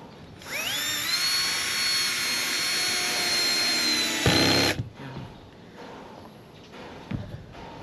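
A power drill driving screws into wood during backyard work, one long steady whine that rises as the motor spins up and holds for several seconds. It stops abruptly, followed by quieter handling clatter.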